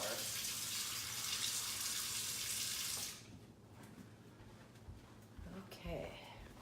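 Hot water pours from a tap for rinsing, a loud close rushing stream for about three seconds that then cuts off, followed by quieter handling noises and a voice speaking.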